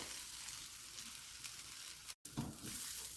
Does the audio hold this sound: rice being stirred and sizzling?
yes